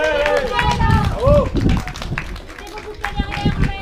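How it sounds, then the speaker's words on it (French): Audience applause for podium riders at a cadet cycling championship, scattered outdoor clapping from a small crowd mixed with crowd chatter and a nearby voice. "Allez, on peut applaudir"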